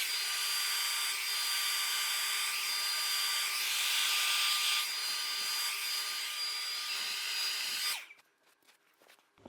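A hair dryer blows loud and steady at close range for about eight seconds with a constant high whine, then switches off, leaving faint handling noises.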